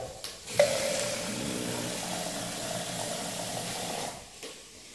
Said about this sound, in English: Once sizzling, stir in the leeks and 400 mils of water.